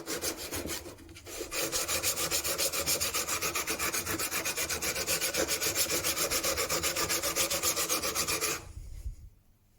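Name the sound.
sharpening secateurs on a 200 grit abrasive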